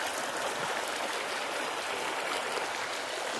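Steady broadband rush of stream water flowing over rocks just above a waterfall, continuous and fairly close with no voices.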